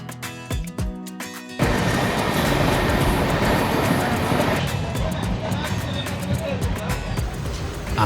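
The Coromandel Express runs on the rails, a loud, continuous rumbling roar with clattering wheels that starts abruptly and carries on steadily to the end, with faint voices nearby.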